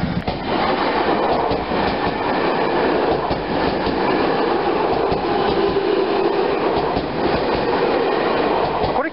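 An express train on the Inokashira Line rumbles steadily past Fujimigaoka Station at close range, a continuous loud roar of wheels and carriages with faint clatter, lasting throughout without any voices.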